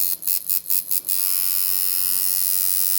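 Powered at roughly 8 volts by a foot pedal, a tattoo machine gives five short buzzing bursts, then settles into a steady, light, continuous buzz heard close and alone.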